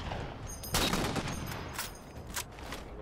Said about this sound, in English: I sniped one of them.